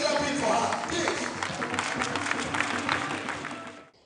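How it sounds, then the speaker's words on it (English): An audience claps for a tribute to a woman honoured as a great icon, a dense, sustained wash of applause from a crowd that carries on loudly and then cuts off at the end. "let us keep clapping for this great icon in a woman"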